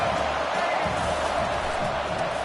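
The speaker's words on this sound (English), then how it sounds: "Listen to this crowd just shaking the girders of this place trying to help their defense." A football stadium crowd roars steadily in support of the home defense, a dense, loud, continuous wall of cheering with no individual voices standing out.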